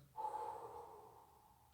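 A single slow breath during a yoga session, soft and close, with a gentle swell that fades out; no talking.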